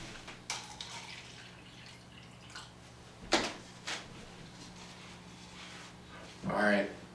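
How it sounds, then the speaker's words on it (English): Water poured from a cup into a 5-gallon Fluval Sea Evo betta tank, landing in a few brief close splashes and trickles between pauses, with a louder gush near the end. "I'm going to dump some of this water and then we're going to put the guy right in."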